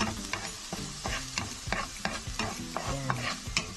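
Garlic frying and being stirred in a pan gives a steady sizzle broken by regular scraping strokes of a utensil, close and moderately loud.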